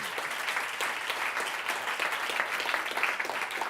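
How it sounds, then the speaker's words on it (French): Steady audience applause at the close of an evening conference, a dense wash of many hands clapping at moderate distance with no talk over it. "On peut applaudir Nazia."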